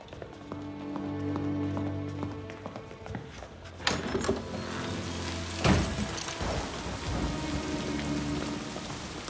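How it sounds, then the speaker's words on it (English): Storm rain falls in a steady, heavy patter on surfaces, with a few louder thuds or cracks partway through and a low hum beneath. There is no talk. "It will be a storm."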